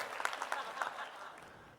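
Audience applause at the Oklahoma City mayor's State of the City address, a moderate patter of clapping with a few sharper claps that thins out toward the end, somewhat distant and on its own.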